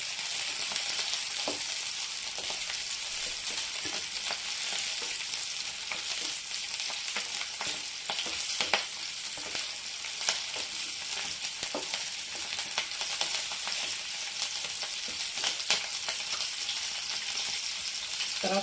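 Green chillies fry in a pan for a Telugu cucumber dal, giving a steady, close sizzle that hisses bright and even throughout, with faint occasional clinks and no talking.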